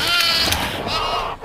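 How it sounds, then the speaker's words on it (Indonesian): A live goat bleats in a film scene where it is tied on a bridge as troll bait, its wavering cry loud and close over a dense, music-like background. "kambing yang masih hidup di jembatan buat mancing trollnya"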